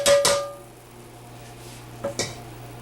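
Dough being scraped out of the bottom of a bowl for gluten-free, dairy-free bread: a couple of close scrapes and taps at the start, then two more short scrapes later, quiet in between.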